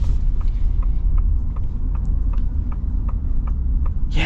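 Ford F-350 Dually Platinum diesel truck driving, heard from inside as a steady low engine and road rumble with faint periodic clicking, no talking.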